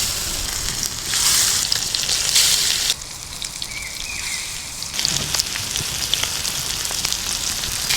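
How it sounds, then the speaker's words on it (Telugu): Sandva fish frying in a little oil on a tawa in a village kitchen, a steady hissing sizzle with brief louder crackling flare-ups, close and continuous with no talk. "ఇప్పుడు చేపని తవా మీద ఫ్రై చేసుకుందామండి."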